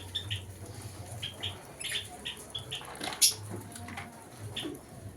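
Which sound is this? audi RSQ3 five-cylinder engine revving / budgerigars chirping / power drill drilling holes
budgerigars chirping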